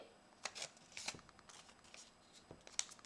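Paper slip being folded by hand, producing a series of soft, close crinkly rustles and creases in quick bursts, quiet and without talk.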